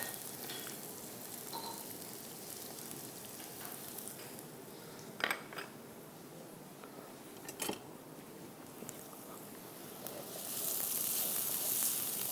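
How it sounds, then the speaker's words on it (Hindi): Onions sauté in a pan with a steady, soft frying sizzle throughout, punctuated by a couple of sharp utensil clinks against the pan, the hiss swelling louder near the end. "प्याज को सौते करना है"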